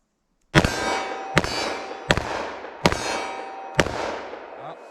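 Five sharp .357 Magnum revolver shots fired from a 2-inch barrel at a range, spaced about a second apart, each a loud crack with a short ringing decay and no talk between them.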